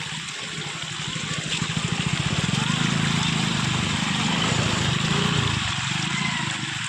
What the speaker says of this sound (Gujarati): આખા ગામનું પાણી અહીંયા આવે છે અમારે.